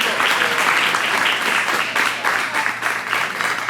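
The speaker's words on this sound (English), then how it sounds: "Huge round of applause for best man right there." Wedding guests give the best man a steady, close burst of applause, many hands clapping densely and evenly throughout with no break.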